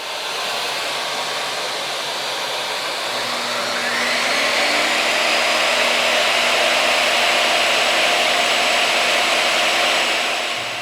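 A shop vacuum and a chop saw share one outlet and run together as a loud, steady motor whine. The pitch rises partway through as the second machine spins up, and no one speaks.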